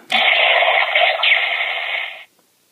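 Gaburicalibur, the Kyoryuger toy sword, fires off a loud electronic sound effect in a steady, dense burst lasting about two seconds before stopping abruptly, heard alone with no talking.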